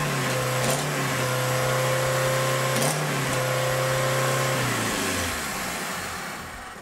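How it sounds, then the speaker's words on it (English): A Saturn wagon engine, run with the EGR removed, cranks and catches, then settles into a loud, steady idle with a brief blip partway through before the sound eases off. No one speaks. "I'm actually gonna start this thing up without the EGR on."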